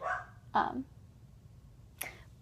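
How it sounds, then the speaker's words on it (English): A couple of dog barks nearby, one dog a pug, followed by a sharper single yelp, with quiet background hum between them. "there's some dogs, my other dogs, barking"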